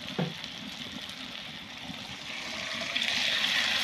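Water is poured into a pan of potato curry (aloo dum) as a close, continuous hiss and splash that grows steadily louder toward the end.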